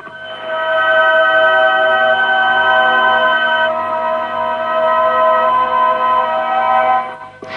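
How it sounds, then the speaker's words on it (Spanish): Crop circle shapes transcribed onto a musical score and played back as a sustained, steady, bell-like tonal chord that holds for about seven seconds without speech. "eso es el sonido de estas figuras pasadas al papel de la partitura."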